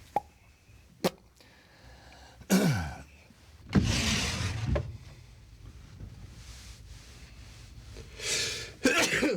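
A single sharp, loud sneeze bursts out near the middle, amid sparse rustles, clicks and muffled vocal noises in a quiet indoor scene.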